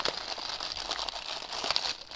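Crinkly plastic packaging around felt sheets being opened, giving a continuous near rustle and crackle with a few sharper crinkles, heard alone.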